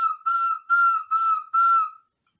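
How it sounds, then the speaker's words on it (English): An ocarina blown in five short, bright, steady tones, close and clear, with brief gaps between each note and silence after. "whether it's an ocarina,"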